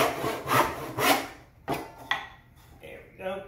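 A hand saw cutting a wooden tenon for a pegged joint, giving a few rasping strokes at close range, the first two long and even, followed by shorter, quieter scrapes.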